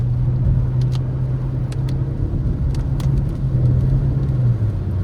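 Škoda Octavia 1.5 TSI 110 kW losing grip on a snowy, slippery road, a steady low engine drone and road rumble running throughout with a few brief clicks and ticks on top.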